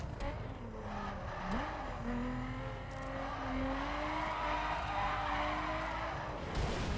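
A car drifts and skids in The Crew video game, its engine droning steadily with a rising, wavering pitch and tires scrubbing continuously for about seven seconds, close and fairly loud with no voices.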